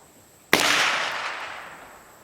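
One sharp shot from a Smith & Wesson Model 17 revolver fired at soda cans on a range cracks out loud and close, then decays in a long fading echo.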